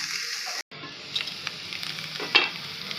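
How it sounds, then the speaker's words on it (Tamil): Watermelon rind roasting in ghee in a pan for halva, sizzling and frying steadily with a short pause near the start and light stirring scrapes over the hiss. "இது நல்லா கொஞ்சம் ரோஸ்ட் ஆகட்டும் நெய்யிலே இருக்கட்டும்"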